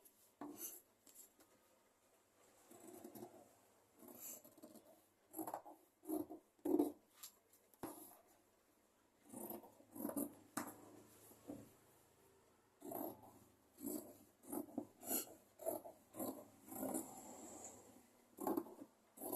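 Scissors cutting fabric for a blouse make a series of faint, quiet snips and rubbing crunches at an irregular pace, close by with no talking.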